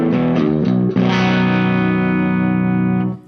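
Electric guitar tuned to B standard, played with a Zoom Hyper Lead pedal switched off: a few short notes, then a long sustained chord ringing loud and close until it cuts off.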